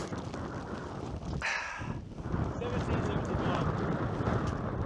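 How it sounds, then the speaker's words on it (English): Strong wind buffets the microphone on a breezy mountain summit during a hike, a continuous roaring gust with brief lulls, under a voice. "it's too bloody breezy"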